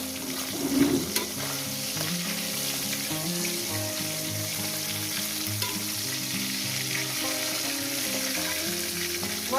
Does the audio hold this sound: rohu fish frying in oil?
yes